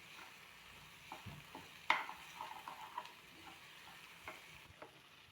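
A paneer mayo cheese sandwich filling is stirred in a pan on the stove: faint, scattered scrapes and taps, with one sharper clink of utensil on metal, and no voices.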